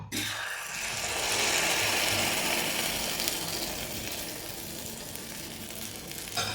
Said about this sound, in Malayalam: അതിലേക്ക് ഒരു ഒരു സ്പൂൺ മാവൊഴിച്ചു കൊടുക്കുക